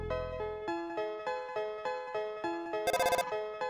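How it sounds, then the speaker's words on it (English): Phone dialing in Undertale: repeated electronic chiptune ringing tones in a steady, regular pattern, with a brief buzzing trill near the end and no talk over it. "Dialing."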